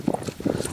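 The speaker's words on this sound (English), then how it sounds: "Looking up, press my horse to a jog." A horse's hooves beat out an even clip-clop as it jogs through a reining pattern in an arena, with close, repeated footfalls and no other sound.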